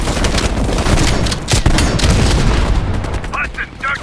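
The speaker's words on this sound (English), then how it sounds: "Heavy MG on the ridge." Heavy machine gun fire in the Call of Duty Black Ops Cold War video game, dense bursts and booms filling the whole stretch, loud and continuous with battlefield noise throughout.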